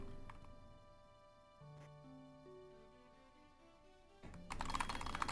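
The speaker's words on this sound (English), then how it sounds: "Have we got keyboard noises coming through on stream?" Computer keyboard keys clack quietly in an uneven typing rhythm under game music, followed by a louder burst of clattering near the end.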